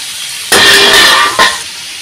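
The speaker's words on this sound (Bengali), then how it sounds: "তেলটা দিয়ে দিয়েছি, দিয়ে এই যে কাঁচা লঙ্কা, অল্প একটু টমেটো কুচি আর পেঁয়াজ কুচি দিয়ে দিচ্ছি।" Green chilli, chopped tomato and onion dropped into hot oil, setting off a loud burst of sizzling that dies down and flares again briefly, close and with no talk.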